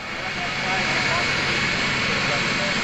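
Turbine-powered modified pulling tractor, the Legend, at a 2000 NTPA tractor pull in Inwood, Ontario, spooling up with a steady, loud jet-like whine and roar that builds slightly, with a voice talking over it.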